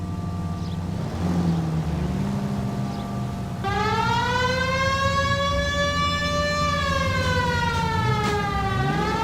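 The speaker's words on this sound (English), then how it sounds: "We have a siren." A wailing police siren from the L.A. Noire video game starts partway through, rising and falling in long sweeping tones over a steady car engine rumble, loud and continuous with no talking.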